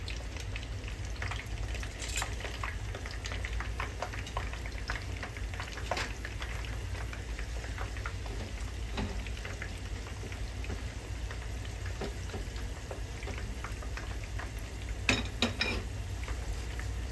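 Japanese sausages frying in a pan of hot oil, a steady dense crackling sizzle running throughout with scattered louder pops, close and continuous without talk.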